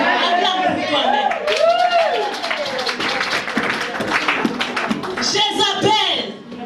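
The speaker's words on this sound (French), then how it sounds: "Acclame pour toi-même." A congregation at a Congolese evangelical church service claps and cheers, with bursts of applause under loud, overlapping voices throughout.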